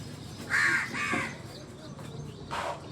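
Crows caw at close range while being fed, a few harsh, loud calls bunched near the start and another near the end, over faint background noise.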